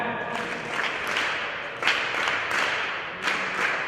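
A group of women in a ballroom dance lecture claps together, a soft wash of many hands with a few sharper accents standing out, fairly distant in a large room.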